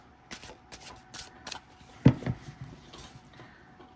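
Tarot cards with silver gilding on their backs being shuffled by hand, a string of quick riffling bursts with one louder clattering slap near the middle, close and fairly quiet with no voices.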